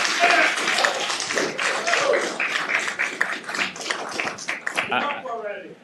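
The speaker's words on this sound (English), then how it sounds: "I'd ask you all if you hold your applause until we get to a certain point, please" Audience clapping at a Virginia Senate agriculture and natural resources committee hearing, a brief burst of scattered hand claps that thins out over a few seconds, with voices among it.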